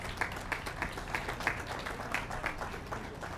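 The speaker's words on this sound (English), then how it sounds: "Yeah, they get a round of applause. I heard that." A round of applause for the J. Wagner Group, faint and distant, with clearly spaced individual claps over a low background.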